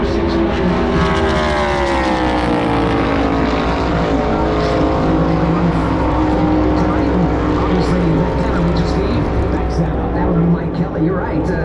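A NASCAR stock car running a qualifying lap at Daytona, its engine a steady, loud sustained roar with shifting harmonic pitch throughout, heard under continuous commentary speech.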